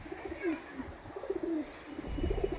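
Repeated soft cooing from a large-feathered pigeon, several low rolling coos in short bursts, fairly close, with a rustle of handling and ambient noise behind.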